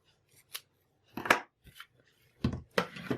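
Scissors trim the end of cotton trim laid over red cardstock for a Christmas card, making a few short, close snips spaced apart with quiet gaps between them.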